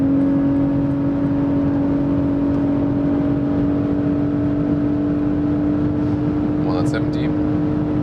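A Lexus RX 450h F-Sport hybrid pulls hard at high speed, a steady drone of engine and road noise with a strong tonal hum, growing rush of wind, and someone talking over it near the end.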